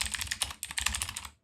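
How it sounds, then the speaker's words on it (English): Rapid, irregular keystrokes on a computer keyboard clatter in a steady close-up stream for about a second and a half, with brief pauses and a final isolated tap. "I know you guys heard that typing"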